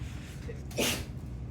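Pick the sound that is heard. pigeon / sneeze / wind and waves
sneeze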